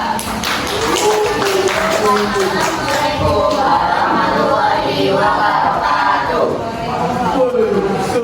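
A high-school class in Surabaya claps and cheers for group 2, a busy, continuous wash of clapping, taps and excited voices at close range.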